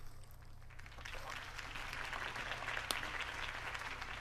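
A crowd applauding steadily and continuously in the video game Batman: The Telltale Series, a dense wash of clapping throughout.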